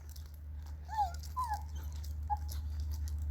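Pet dogs whimpering, a few high, wavering whines close by over a low steady hum, with faint scuffling between cries.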